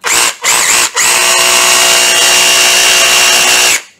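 Cordless brushless hammer drill running in hammer mode, loud and close, with two short bursts followed by a long sustained buzzing grind that cuts off abruptly.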